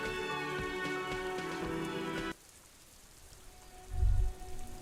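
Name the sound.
rain falling on the city in the video game Disco Elysium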